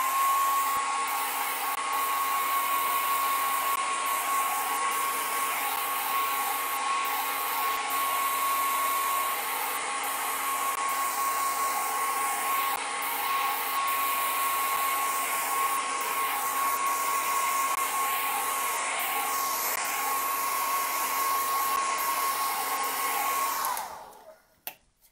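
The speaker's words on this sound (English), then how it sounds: "I'm going to take the hairdryer to it again" Hairdryer blowing on a painting, a loud steady whooshing drone with a constant motor whine held for over twenty seconds before switching off abruptly.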